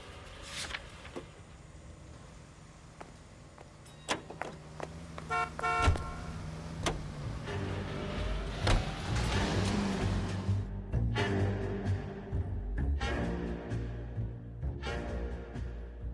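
A car driving through city streets in L.A. Noire, steady engine rumble with scattered clicks, horn toots and traffic sounds around it.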